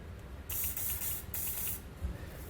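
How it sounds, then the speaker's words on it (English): Two bursts of aerosol spray hiss close by onto a rubber exhaust hanger on a 2020 Hyundai, each lasting under a second with a short pause between them, over a low rumbling background. "Just use the same method of spraying the hanger down"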